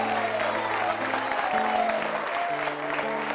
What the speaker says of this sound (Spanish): denle un fuerte aplauso al Todopoderoso